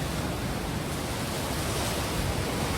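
Floodwater released from Ujani dam surges past at Begampur, a dense, unbroken roar of rushing water that fills the scene evenly and steadily, with no voices over it.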